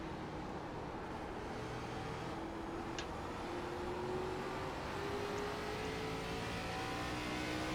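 Race car engine in the iRacing ARCA Menards video game on a short track, a steady droning hum with slowly rising pitch held at an even level throughout, no voices.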